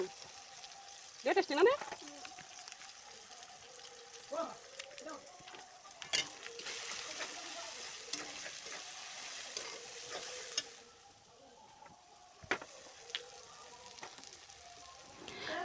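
Turmeric, cumin and chili powders fry in oil in a pan, a soft continuous sizzle broken by clinks and scrapes of stirring, with a brief murmured voice now and then.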